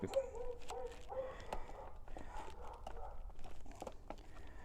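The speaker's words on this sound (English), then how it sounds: "we got a very noisy dog" A dog yips, barks and whimpers in short bursts close by, restless and noisy over a low background rumble.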